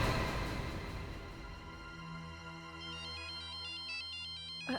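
A mobile phone ringtone plays as a bright repeating electronic melody, rising over a soft fading chord, close and clear with no one speaking.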